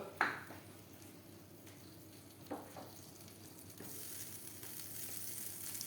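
Butter sizzles faintly in a pan for a wild mushroom risotto, a soft steady hiss broken by a few sharp clinks of a utensil against the pan.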